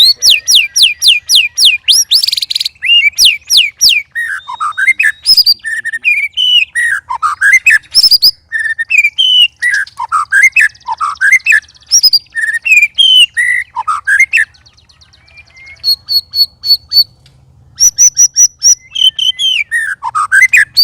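A white-rumped shama (murai batu) sings loudly and close, pouring out rapid whistled phrases, trills and chirps in quick bursts with short pauses, alone and without talk.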